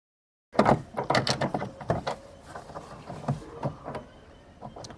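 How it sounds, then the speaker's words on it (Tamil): Close mechanical clicks, rattles and scrapes of a screw being undone from a car door handle panel, irregular bursts of small metallic ticks and creaks with no talk. "அந்த ஸ்க்ரூவையும் கழட்டியாச்சு."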